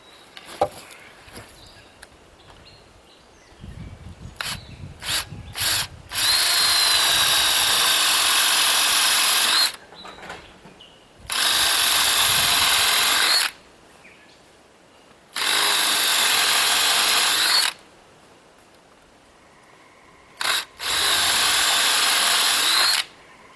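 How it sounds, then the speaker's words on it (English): A power drill bores through pine wood while a homemade fence post puller is being built, running in four loud, steady bursts of several seconds each, separated by short pauses. Light handling noises come first, and no one speaks. "So we're going to drill through right about here."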